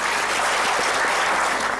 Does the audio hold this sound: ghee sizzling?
no